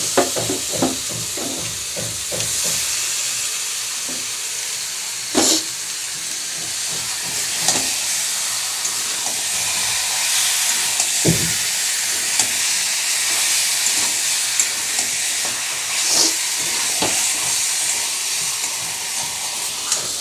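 Washed meat fries in a hot pan with a loud, steady sizzle, while a spatula stirs it in repeated scraping and clanking strokes that come irregularly throughout.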